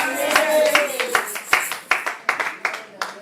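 A church congregation claps in a steady rhythm of sharp, loud hand claps, roughly three per second, with voices mixed in underneath.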